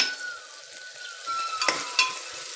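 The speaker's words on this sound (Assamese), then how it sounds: "দহ পোন্ধৰ ছেকেণ্ড কম জুইত এইখিনি মছলাখিনি ভালদৰে ভাজিব লাগিব" Ground spice powders for masala khichdi fry in a pan over low heat, a soft steady sizzle with a few clinks of a spoon stirring near the end, fairly quiet and without talk.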